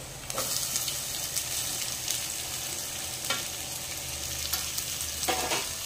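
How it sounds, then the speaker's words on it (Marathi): Thinly sliced onions sautéing over high heat after ginger and garlic, a steady sizzle broken by several sharp spatula scrapes and stirring knocks against the pan. "आणि आता गॅस मोठा करायचा, कांदा छान परतून घ्यायचा आपल्याला।"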